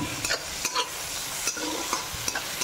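Onion hits hot mustard oil in a wok already holding nigella seeds, eggplant and green chilies, giving a soft steady sizzle with quick scraping stirs at regular intervals and no talk.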